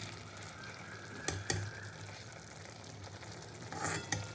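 Fish bharta being stirred and worked in a pan while bones are picked out, a steady low sizzle with soft scraping and a few louder knocks of the spoon against the pan.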